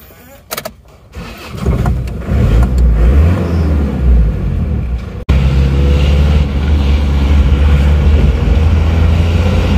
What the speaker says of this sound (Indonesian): Jadi kalau diinjak gasnya itu larinya itu tidak segalak Panther yang lainnya.